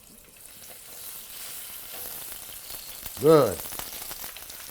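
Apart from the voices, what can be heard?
chicken skin frying crispy in a pan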